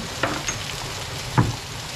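Hot oil frying chicken gives a low sizzle with a few sharp pops and crackles, two of them standing out, alone without talk.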